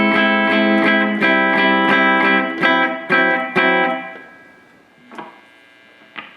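A distorted electric guitar plays a rhythm part with a triplet figure from a song: a run of sharp chord stabs, then a few spaced hits before the sound fades to quiet.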